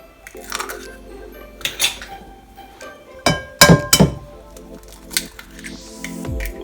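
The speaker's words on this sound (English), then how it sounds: "First of all, I add my 2 eggs." Two eggs cracked and dropped into a mixing bowl for Nutella-filled chocolate cookie dough, with sharp close clinks of shell against the bowl and soft wet plops, repeated in a few bursts with no talking.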